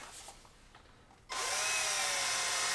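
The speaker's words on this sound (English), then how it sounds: "We'll use a step drill ultimately." A step drill bites into a hole on the bench for a Mini Cooper S R53 Turbo fuel system, a sudden loud high whine that starts abruptly and holds steady after a brief quiet lead-in.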